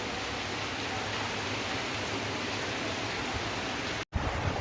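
Steady rain falls in a continuous, even hiss that fills the whole stretch, broken only by a momentary dropout near the end, with no one speaking.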